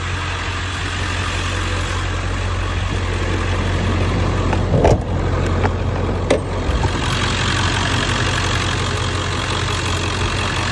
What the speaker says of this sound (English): I'm also gonna start the truck.